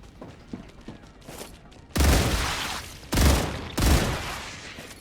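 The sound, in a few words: gunfire in StarRupture video game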